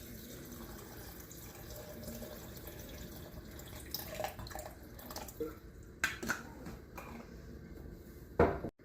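Cold water pours into a container in a home kitchen to make a pomegranate lassi, giving a quiet, steady splash and trickle. A few clinks and knocks follow near the end.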